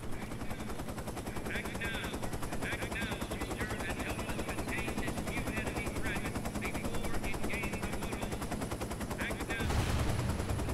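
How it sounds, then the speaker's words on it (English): Machine gun fire in the war shooter Shellshock 2: Blood Trails rattles in a long, steady, rapid burst for about ten seconds, loud and continuous, with a louder blast near the end. "Oh, there's a machine gun right here."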